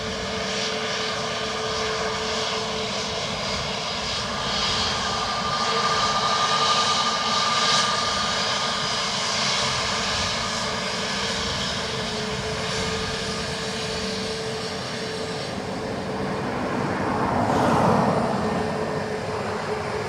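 Airliner engines roaring at Dublin Airport: a loud, sustained jet and turbine drone with a steady whine, swelling and then fading over twenty seconds, with no voices.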